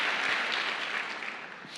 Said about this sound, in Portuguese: Por que vocês não dão um aplauso para vocês mesmos por essa colaboração?